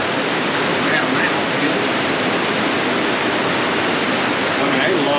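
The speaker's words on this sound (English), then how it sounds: "a lot of water coming off the roof" Heavy rainwater pours off a roof in a steady, loud, broadband rush that holds constant throughout, with a voice talking faintly beneath it.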